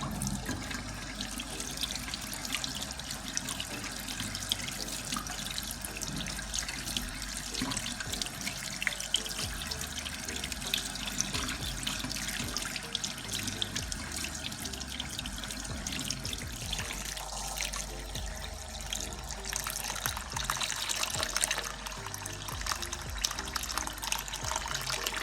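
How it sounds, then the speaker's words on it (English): A kitchen tap runs continuously into a sink as saltfish is rinsed and left to soak, a loud, steady gush of water with no talking. "So I'm just going to wash it off and put it to soak."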